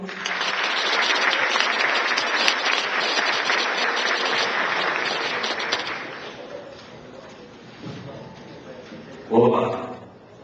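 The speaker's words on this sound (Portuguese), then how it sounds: "Vamos receber então com aplausos Irineu Pinheiro." An audience at a university lecture event claps to welcome a speaker: dense, lively applause for about six seconds that thins out, followed by scattered noises and a brief louder voice near the end.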